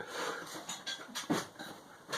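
A dog panting close by in quick, uneven breathy bursts with a few soft whimpering sounds, heard alone with no talk.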